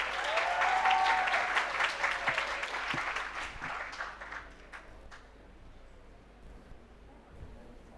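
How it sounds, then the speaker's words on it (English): Audience applause for a contestant named Eloge at an agripreneur prize competition final, with a loud burst of clapping from a crowd in a hall that gradually thins and fades to scattered claps. "A round of applause for Eloge."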